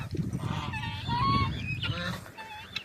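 Geese honk repeatedly in a loud, overlapping chorus, nasal calls rising and falling close by with a busy flock murmur underneath.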